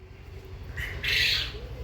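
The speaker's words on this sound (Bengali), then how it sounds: "এগুলো কিন্তু আমাদের অরিজিনাল ইউরোপিয়ান হোয়াইট জায়ান্ট কটনিক্স কোয়েলের প্যারেন্টস" European White Giant Coturnix quail parent birds in a cage give a brief, bright squawking call that rises over a low steady hum, close by and alone.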